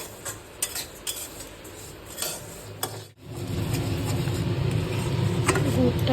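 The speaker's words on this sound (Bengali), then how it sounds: "আমি এখানে তিলের নাড়ু বানাবো বলে তিলটাকে করছি ড্রাই রোস্ট।" Sesame seeds dry-roasting in a pan for til naru, with scattered scraping and tapping of a spoon against the pan, then a louder steady rustling, hissing wash as the seeds are stirred, nearby.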